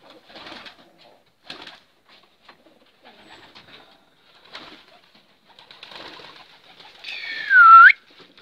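Soft rustles and scattered faint sounds, then a single clear, close cooing call from a homing pigeon near the end.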